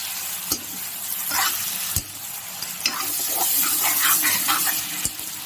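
Pork fried in a pan is stirred, with a steady sizzle under scraping and clacking strokes of the utensil, several sharp knocks against the pan along the way.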